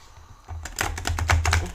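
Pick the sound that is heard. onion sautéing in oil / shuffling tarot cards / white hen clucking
shuffling tarot cards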